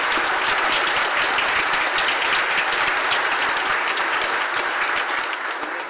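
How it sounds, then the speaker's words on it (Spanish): Steady, loud applause from a congregation for the children during a Catholic Mass for Trinity Sunday, a dense wash of clapping sustained throughout without talk. "Aplaudan por los niños"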